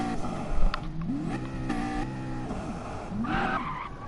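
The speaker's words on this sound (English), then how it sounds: "Engine sounds might be a little loud." Race cars in a racing video game roar steadily with repeated tire skids and squeals, engine pitch rising and falling through gear changes, loud and continuous with no voices over it.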